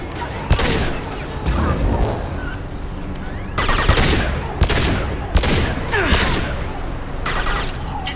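Gunfire in the video game Mass Effect 2, with loud repeated bursts of rapid shots and heavy impacts crowding close together over a continuous rumbling battle background.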